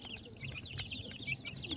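Native deshi chickens cluck softly in a poultry shed with litter bedding, making a quiet, rapid run of low clucks and murmurs close by.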